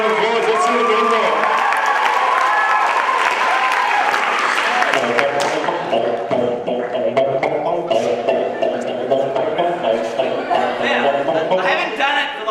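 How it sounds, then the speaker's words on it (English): At a comedy debate in Sydney, a crowd claps, cheers and whoops, loud and lively at first and then fading into scattered clapping and chatter as voices talk over it. "Let's give it a round of applause."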